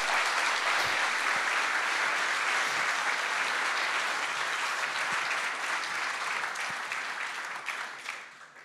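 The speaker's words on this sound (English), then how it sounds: "round of applause for the future of OBTS" Conference audience applause at the OBTS security conference in Marbella, Spain: a full crowd claps steadily and densely for several seconds, then the clapping thins and tapers off toward the end.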